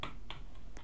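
Mouse clicking during Pet Simulator X gameplay, four quick sharp clicks close to the mic over a steady background hum.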